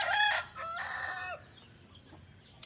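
A rooster crows once nearby in a clear, rising-and-falling call, then the scene goes quiet apart from faint background noise.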